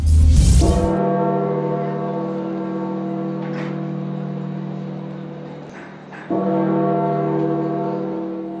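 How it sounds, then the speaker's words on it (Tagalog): Large church bells toll in deep, resonant strikes, their long humming tones ringing out and sustaining between two clear hits. "Pinatunog ang kampana sa iba't ibang simbahan sa mundo"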